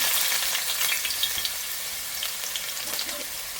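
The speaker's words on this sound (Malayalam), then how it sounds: "ഉലുവ നല്ലോണം പൊട്ടിയിട്ടുണ്ട്. നമുക്ക് ഇതിലേക്ക് ഇഞ്ചി ചേർത്ത് കൊടുക്കാം." Ginger added to hot coconut oil with popped fenugreek seeds for a Kerala-style fish curry, giving a steady bright sizzle with small crackles and occasional stirring scrapes, close and continuous without talk.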